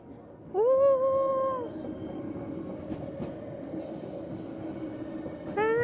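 A train passes at Blue Line Park near Cheongsapo Station in Busan, opening with a loud wheel squeal in steady tones that fades into a continuous rumble of rail noise, with a second squeal starting at the end.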